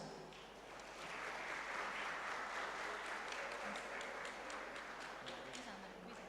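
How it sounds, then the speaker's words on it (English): A conference audience at an Islamic economics and business event claps steadily, building after a moment into a sustained, fairly even round of applause heard at a modest distance. "please give a huge of applause"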